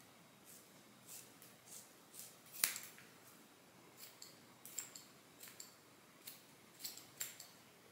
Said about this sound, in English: Using sharp scissors, cut your hair.